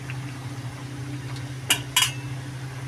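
A lid set over a pan of rohu fish curry with pumpkin, potato and lentil dumplings: two quick metallic clinks close by over a steady low kitchen hum.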